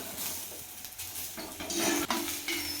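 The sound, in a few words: stirring chopped taro stems in a pot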